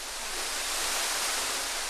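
Surak Waterfall pours down onto broad rocks, giving a continuous, loud, hissing roar of falling water with no other sounds.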